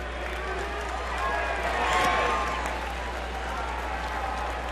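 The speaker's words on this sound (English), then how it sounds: "You hear the crowd rumbling." Ballpark crowd at a Phillies at Brewers baseball game rumbles in a steady broad wash that swells briefly mid-clip, with a commentator's voice heard faintly over it.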